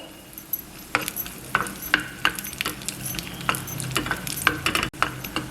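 Raisins fry until golden for sago and moong dal payasa, giving a steady close sizzle broken by sharp clinks and scrapes as a spoon stirs the pan.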